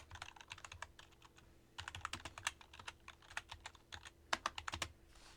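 Rapid typing on a computer keyboard, with quick clusters of crisp key clicks separated by short pauses. The keystrokes sound close and fairly quiet, with no talking over them.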